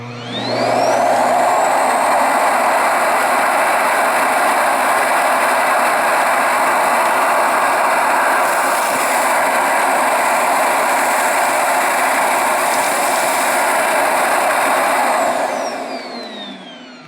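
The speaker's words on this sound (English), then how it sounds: "Emptying the bin. See it moving up and down?" A Samsung Jet Bot robot vacuum's self-empty station runs to empty the bin, giving a loud, steady roaring suction whoosh that holds for about fifteen seconds before trailing off, close up and without talk.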